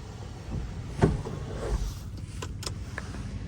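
The rear window glass on a Nardo Grey 2024 Audi RS 6 Avant powers closed in freezing outdoor air, a steady electric motor whir with a sharper thunk near the start and faint clicks toward the end.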